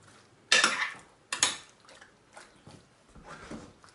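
Pasta and minced meat being folded into béchamel sauce in a pan: two loud clattering scrapes of a utensil against the pan, followed by softer intermittent stirring noises, with no talking.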